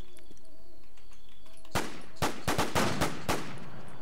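Sniper rifle shots in the WarZ video game, a series of about six sharp cracks in quick succession after a quiet stretch, loud and punchy against a low background hum.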